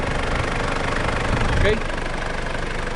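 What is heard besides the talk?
2800 turbo diesel intercooler engine idling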